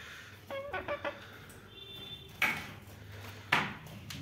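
A pet hen that has just laid her first eggs gives a short run of soft, quick clucks close by, followed by a couple of louder rustling knocks in a quiet room.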